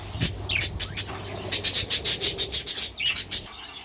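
Finches and canaries splashing and fluttering in fresh bath water, with a quick series of bright chirps and wing flutters in rapid bursts, close and fairly loud, no talking.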